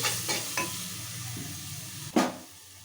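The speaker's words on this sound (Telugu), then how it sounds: "అల్లం వెల్లుల్లి పేస్ట్ వేసినప్పుడు ఏంటంటే కొంచెం ఫాస్ట్గా సిమ్లో పెట్టుకొని వేయించుకోండి" Ginger-garlic paste fries in a pan on low heat for chicken curry, with a constant close sizzle broken by several scraping spoon strokes and a sharper clack near the end.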